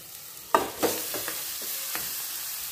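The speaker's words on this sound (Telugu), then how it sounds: "ఇలా నూనెలో ఉడుకుతున్న చికెన్ని మనం ఒకసారి కలుపుకోవాలి" Soaked chicken pieces frying in oil with cloves, cinnamon and turmeric, stirred in the pan: a couple of sharp scraping knocks from the spoon over a quiet, steady sizzle.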